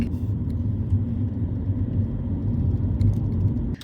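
A car driving along a road in Devon, heading toward a quayside restaurant, gives a steady low engine and tyre rumble heard from inside, close and continuous with no talk.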